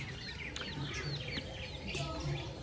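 Chickens and chicks on a home bird setting make a busy mix of soft clucks and high peeping chirps, steady and moderately close, with no clear talk over them.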